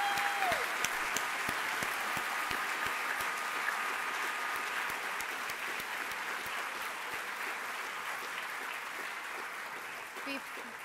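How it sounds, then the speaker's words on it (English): Steady applause from an audience, continuous clapping at an even level, slowly fading a little toward the end. "give the candidates a big round of applause"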